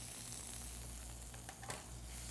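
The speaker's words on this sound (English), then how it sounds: "I'll let that saute up a little bit." Chopped shallots and garlic sautéing in hot olive oil, a quiet, steady sizzle with faint crackles close by.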